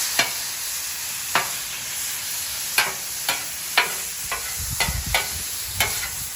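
Philly cheesesteak meat and onions sizzle steadily on an outdoor grill, with a constant frying hiss broken by sharp scraping and stirring clicks from a spatula at irregular intervals, close and clear with no talking.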